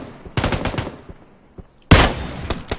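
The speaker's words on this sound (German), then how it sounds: "Oh, ich krieg Schüsse vom Stein." Video game shooter gunfire rings out in two sharp, loud bursts of rapid shots, the first a rattling volley and the second a heavier cluster after a short pause.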